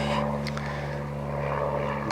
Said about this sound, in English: There goes a plane overhead.